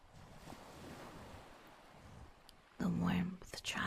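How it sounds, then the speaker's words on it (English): Soft ocean waves wash in a steady low rush, with a calm voice speaking over them near the end. "as you listen to the soft waves"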